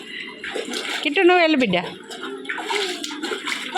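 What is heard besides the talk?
child swimming, splashing water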